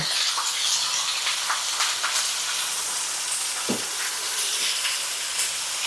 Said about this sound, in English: I just want to get a really nice sear on that piece of meat